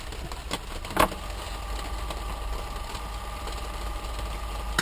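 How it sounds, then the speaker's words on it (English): A blower runs steadily at a workbench where soldered wire joints are being covered with heat-shrink tubing, giving a constant mid-pitched motor hum with a faint tonal whine and one small knock near the start. "And I'll put the blower on."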